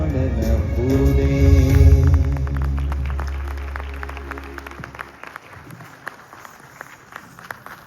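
Audience applause at a Hindi patriotic song program, clapping that swells over a fading sung chord and then thins into scattered individual claps.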